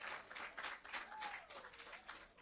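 An audience at a social housing handover ceremony on Allamanda Avenue, Tower Hill, claps in a faint, dense round of applause for the Prime Minister, heard from a distance.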